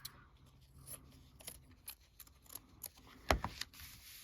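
Several quiet, close scissor snips trim an oversized fabric piece during quilt paper piecing, spaced irregularly with a louder cut near the end.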